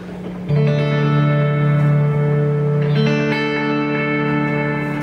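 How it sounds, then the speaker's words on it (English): A sustained, heavily reverberant guitar tone rings out through a 1776 Effects reverb pedal, with notes blooming and trailing into a long echoing wash; a second chord swells in midway. "Let's turn on the reverb, just so we can hear what it sounds like with reverb"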